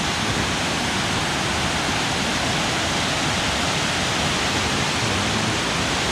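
Krueng Krawia waterfall in Thailand roars in a dense, unbroken rush of falling water, steady and loud throughout with no voices.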